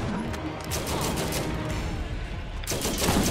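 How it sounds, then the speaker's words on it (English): A deployed turret in Borderlands fires rapid bursts of gunfire, dense crackling volleys running continuously with a short lull near the end before resuming, loud and close. "He threw down a turret."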